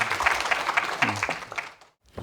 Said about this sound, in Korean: 우리 박수로 환영해 주겠습니다.